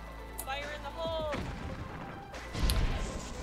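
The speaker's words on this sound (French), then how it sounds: "J'ai encore tiré une grenade." A grenade blast in the Depth of Extinction video game, a sharp crashing explosion with a rumbling tail, followed by a second thudding impact, heard alongside game effects and someone talking.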